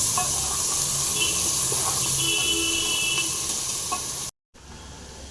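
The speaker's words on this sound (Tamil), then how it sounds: "நல்லா ஃப்ரை வெங்காயம் ஃப்ரை ஆகிருக்கு" Onions frying in hot oil for vegetable sambar, giving a loud, steady sizzle and hiss throughout, then a brief dropout near the end.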